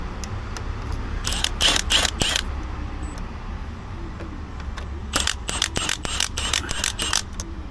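Small screws are worked out of a Volvo headlight switch inside the car with a screwdriver, heard as close clusters of brief ticking and scraping clicks in two bursts, separated by a quieter pause.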